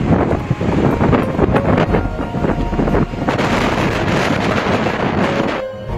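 Strong wind blasts at a windswept mountain sentry outpost in winter, buffeting the microphone in loud, continuous gusts with rough, roaring turbulence that eases near the end.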